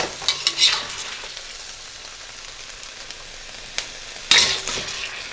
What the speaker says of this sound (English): you're cooking it until it's no longer pink inside, or the beef is no longer pink